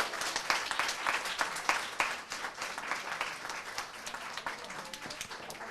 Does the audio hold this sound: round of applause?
yes